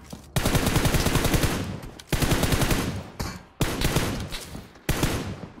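Gunfire in PUBG Mobile: four long, loud bursts of automatic weapon fire, each running over a second before cutting off abruptly, separated by brief gaps, with no talking over them.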